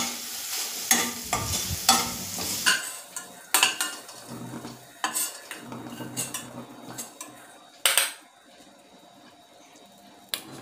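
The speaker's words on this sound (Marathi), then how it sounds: "इथं मी याच्यामध्ये तेलामध्ये मोहरी टाकून घेतली." Mustard seeds and spices are tempered in hot oil in a new kadhai: crackling sizzle under repeated sharp metal spoon clinks and scrapes, close and irregular, with no speech.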